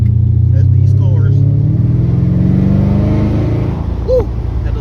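Mercedes-Benz CL engine accelerating, a loud, close, steady engine roar with rising harmonics over several seconds, continuous throughout with a brief blip near the end.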